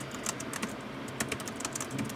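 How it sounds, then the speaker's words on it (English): Rapid, uneven tapping on a computer keyboard, with quick clusters of keystrokes and short pauses, close and fairly soft, while a clothing listing for eBay is entered. "I would start typing in the title"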